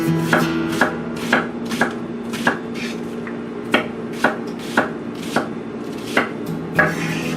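A knife chops onions on a cutting board in a steady run of about a dozen crisp, evenly spaced thunks. The strokes are close and distinct over a faint background hum, with no speech.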